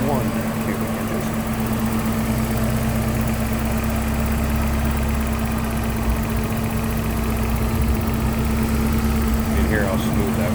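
A 1987 Porsche 924S engine idling with the hood up, a steady, smooth mid-pitched hum with an even low drone and no revving, loud and close the whole time.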